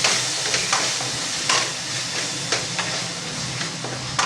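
Yogurt is sautéed with methi and potato in a hot pan, giving a steady close sizzle and hiss with occasional soft clicks of stirring and no talk.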